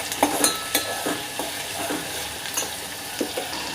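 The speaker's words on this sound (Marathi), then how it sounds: "त्यात मी आता ही 5 ते 6 कढीपत्ता टाकणार आहे आणि आता आपल्याला त्याला व्यवस्थित असं मिक्स करून घ्यायचं आहे" A handful of curry leaves fry with onion in oil in a pan for Malvani-style egg curry, a moderate sizzle punctuated by repeated spoon scrapes and metallic clinks against the pan, close and without voices.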